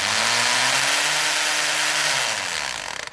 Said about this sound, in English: go ahead and hammer drill these holes